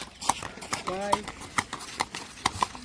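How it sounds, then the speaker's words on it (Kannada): Horse hooves clip-clop in a steady rhythm at close range, with a brief whinny-like call in the middle and people talking over it. "ಕುದುರೆ ಓಡ್ಬಿಡ್ಬೇಕೀಗ"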